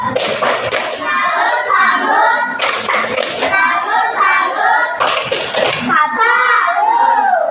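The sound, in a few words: classroom children doing the 'tepuk salut' clap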